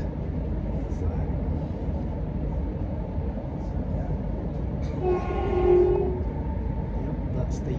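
A passing train rumbles steadily and closely throughout, with a brief horn sounding near the end.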